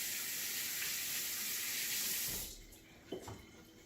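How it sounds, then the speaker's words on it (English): Tap water running steadily into a sink as hands are washed under it, a close broad hiss that cuts off abruptly, followed by a few soft drips and handling sounds. "You have to wash your hands constantly doing this"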